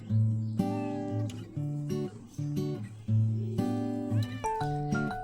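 A cat meows repeatedly and clearly, a series of tonal, drawn-out calls with rising and falling pitch, close and alone without speech.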